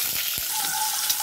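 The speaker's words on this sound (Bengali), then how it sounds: "ডিমগুলো আমি হালকা ভেজে নেব।" Eggs fry in mustard oil in a pan, giving a steady close hiss and crackle of sizzling with no voices over it.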